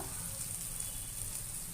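Spices frying in hot oil in a pan for a fish-head muri ghonto, giving a steady, close, even sizzle and crackle that runs unbroken throughout with no voices.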